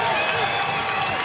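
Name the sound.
crowd cheering at a wrestling dual meet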